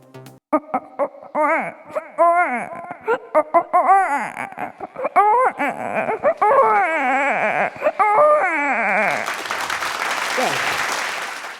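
A voice imitates a baby crying in a string of rising and falling wails and sobs at a summer camp, then a burst of applause fills the last seconds.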